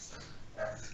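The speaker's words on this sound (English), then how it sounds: "And that was my dog." A pet dog somewhere in a home barking and whimpering once, a brief muffled yelp over a steady background hiss, faint and not very close.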